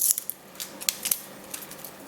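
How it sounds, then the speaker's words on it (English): Plastic protective film peeled off the face of an Asus Zenwatch 2 smartwatch, giving faint, sparse crinkling ticks and small crackles over about two seconds in a quiet room. "there is this plastic around the watch face, so we'll peel this up and this down"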